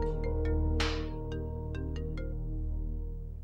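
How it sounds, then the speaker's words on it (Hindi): A mobile phone ringtone plays a repeating melodic tune with bright chime-like notes, clear and fairly loud in a quiet indoor room. "किसका फोन आ रहा है?"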